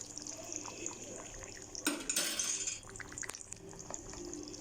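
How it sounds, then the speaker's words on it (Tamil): Fish curry, meen kulambu, simmers in a pot over a high flame with soft, faint liquid bubbling, briefly covered by a burst of clattering utensils and splashing. "இப்போ பாருங்கள், நல்லா கொதிக்குது மீனை போட்டதுக்கப்புறம்."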